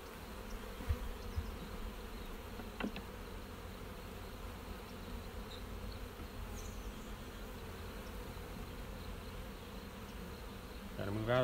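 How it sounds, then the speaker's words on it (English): Steady, continuous buzzing of many honey bees in a hive, a dense droning hum that holds throughout with no voices. "So let me get this hive pushed back together here. I'm not squishing any bees in the process."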